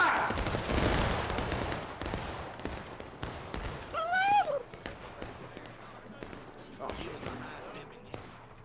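A line of soldiers fires a musket volley in a video game battle at a grist mill: a loud crackling burst of overlapping shots, then scattered single reports and battlefield noise, with voices shouting around it.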